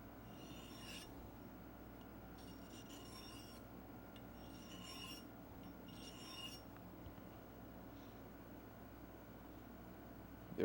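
A knife blade forged from stainless san mai scrapes in short bursts across a 1,000 grit diamond stone, each rasping pass quiet and close with brief pauses between strokes.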